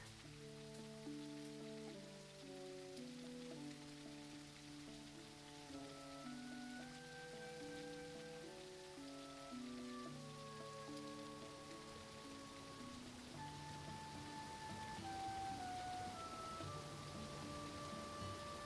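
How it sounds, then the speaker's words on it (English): Steady rain falls on a surface in a quiet spot where rain has been scarce, a soft continuous patter held under gentle melodic notes throughout. "We finally got some rain around here."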